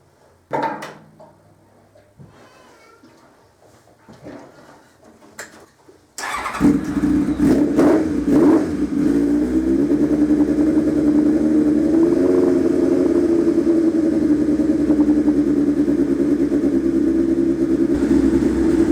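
A fighter-build motorcycle engine running on its carburetors starts with a burst and settles into a loud, steady idle that holds to the end, after some quiet workshop handling noises before it.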